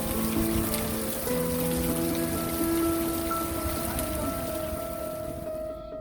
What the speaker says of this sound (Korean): 남계소원에 한바탕 소나기가 쏟아지네요.